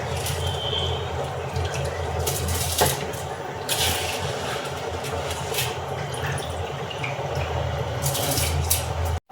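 Water draining off soaked rice for a home-style bachelor biryani, a steady wet trickle and splash that runs close and fairly loud without pause, with no talking.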